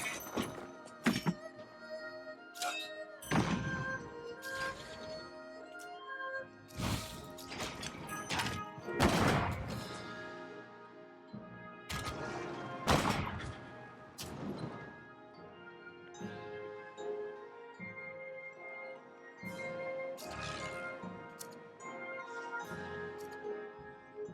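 Bombing of the city of Argos in Civilization VII, a run of heavy thumping impacts and crashes with ringing, tonal game effects between them, loud and dense at first and then easing into a steadier layered din.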